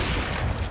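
Dense gunfire from a wall bang in Counter-Strike on the Overpass map, a continuous rattling burst of shots that fills the short moment.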